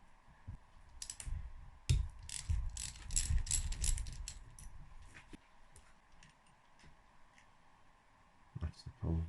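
A socket ratchet loosens a bolt on a Yamaha DTR engine being removed for a rebuild, producing quick bursts of close, crisp clicking in the first half, then quieter clicks later with faint room noise and a low voice.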